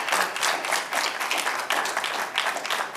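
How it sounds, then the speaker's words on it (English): A studio audience at a hybrid town hall in The Bahamas bursts into sustained applause, many hands clapping in a dense, even roar that holds for several seconds. "Let's give them a round of applause, folks."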